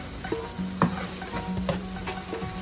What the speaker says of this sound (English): we are going to add our garlic and we're going to fry that for a couple of minutes